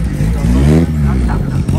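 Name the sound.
vintage car engine revving at Osaka collectors event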